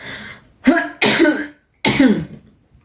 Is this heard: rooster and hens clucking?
no